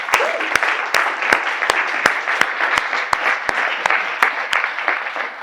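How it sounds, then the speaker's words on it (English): Audience applause at a crypto and blockchain class, continuous dense clapping from a crowd, with sharp regular clicking pulses running through it. "One huge more applause for Solsor"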